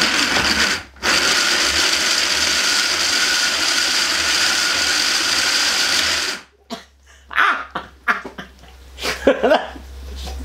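A homemade wind turbine with 1960 gearing spinning, a loud continuous whirring rush that runs for about six seconds, briefly dipping once, then cuts off into scattered knocks and rattles.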